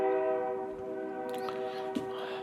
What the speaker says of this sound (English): I wish that train would be quieter.